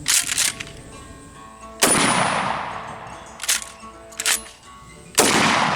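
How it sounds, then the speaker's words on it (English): Two sharp, loud shots from a Hellfire 88 Sidewinder Venom kit fired at a target ten yards away, each a crisp crack with a ringing metallic tail, separated by quieter clicks and handling noises. "I'll do 2 shots on target here at 10 yards"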